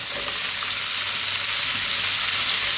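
Onion sizzles and fries steadily in a hot wok over high heat for a Chinese beef and mushroom stir fry, a dense continuous hiss with faint stirring beneath, loud and close, no talking.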